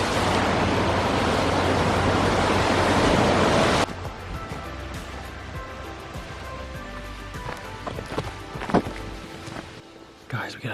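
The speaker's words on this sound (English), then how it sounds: "Those are the waves rolling in from the tour boat that just went by." Waves from a passing tour boat rolling onto a Lake Superior shoreline at Pictured Rocks, a loud steady wash of surf that drops abruptly to a quieter lapping with occasional splashes and wind on the microphone.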